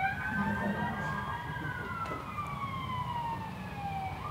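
Emergency sirens wail outside, rising and falling tones sweeping past at a distance under a steady hum of road traffic, moderately faint and continuous.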